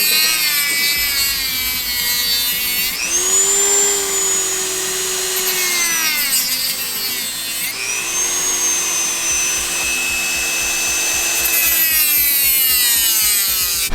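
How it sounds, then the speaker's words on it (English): A Dremel rotary tool cuts open a MAF sensor wiring connector on a Volvo V70R, with a loud, continuous high whine that dips and rises in pitch as the cutter bites and eases off. "so we're literally cutting it open with a Dremel."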